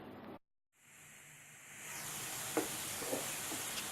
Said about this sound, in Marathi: आता हे मी छान असं परतून घेणार आहे तुपामध्ये.